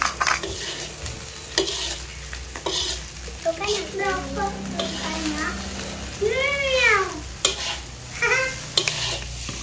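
Fried rice (sego goreng) is stirred and tossed in a hot pan, with steady sizzling and scraping strokes close by while people talk and a cat meows in the background.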